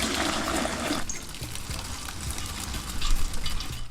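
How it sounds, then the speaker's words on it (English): Excess water is drained from a pan of boiled rice for chicken biryani, a loud rushing pour in the first second settling into a steady wet trickle and splashing that swells again near the end. "So at this point of time, I'm just gonna drain off the excess water."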